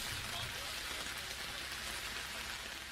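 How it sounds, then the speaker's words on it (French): Heavy rain pours down steadily at an outdoor music festival, a dense, even wash of noise with no breaks, heard faintly from a distance. "La pluie tombe de plus en plus et de plus en plus fort."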